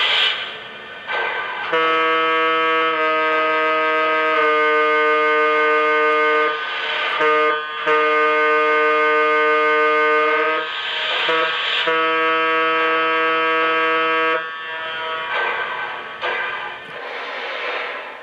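A Lionel Southern Pacific 4-8-8-2 AC-12 Cab Forward model train's air horn blares in long sustained chords, several blasts with short breaks between them, loud and close with no talking.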